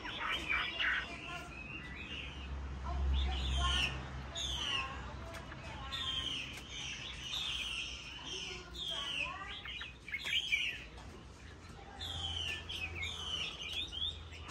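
A person makes short, repeated whistled bird-like calls imitating a female hwamei (Chinese hwamei songbird), interleaved with chirps and some low background murmur.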